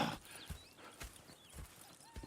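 Horses in the Red Dead Redemption 2 video game, with quiet hoof clip-clops at a walking rhythm and a faint whinny, heard softly alongside light game ambience.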